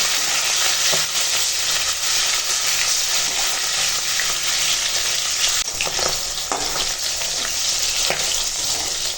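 Rohu fish pieces rubbed with salt and turmeric sizzle in hot oil, a loud, steady hiss up close with a few brief spatters and stirring knocks partway through.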